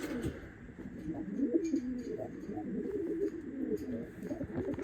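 Pigeons cooing in a coop, soft repeated low throaty coos rolling over one another at close range, with faint rustling and light clicks in the background.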